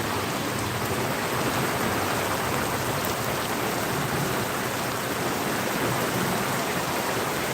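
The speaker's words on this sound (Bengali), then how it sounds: "বজ্রপাত হচ্ছে বৃষ্টি হচ্ছে তুফান হচ্ছে" Heavy rain pours steadily during a storm along a road in Phulpur, a dense continuous roar close by with no distinct thunderclap standing out.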